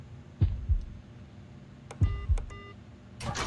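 Heartbeat sound effect from a Roblox horror game: a couple of deep, loud double thumps with gaps between them, mixed with short electronic beeps and tones.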